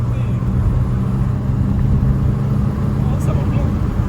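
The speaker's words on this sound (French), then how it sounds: "Le bruit du 5 cylindres" An Audi five-cylinder car engine idles and revs with a deep, throaty rumble, steady and close for a few seconds.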